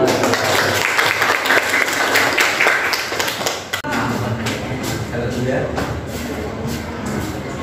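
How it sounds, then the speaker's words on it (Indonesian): A classroom group in Indonesia claps hands after opening a presentation, a loud, dense patter that continues throughout, mixed with murmuring voices and a brief drop midway. "Tepuk tangan dulu"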